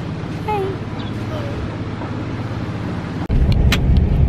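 A rented car rolls along a road in Bali, a steady low engine and tyre rumble that swells louder near the end, with faint voices and a few squeaks over the drive.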